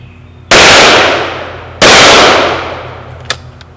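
Two loud, close shotgun blasts from a 12 gauge firing mini shot shells, each a sharp crack followed by a decaying echo about a second apart, then a faint clink.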